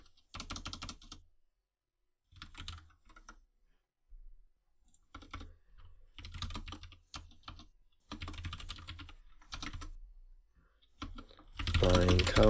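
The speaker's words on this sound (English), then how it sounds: "I have a mechanical keyboard, so that's why it's so clicky." Bursts of rapid typing on a clicky mechanical computer keyboard, close and fairly loud, in irregular runs separated by short pauses, ending in a denser, louder flurry of keystrokes.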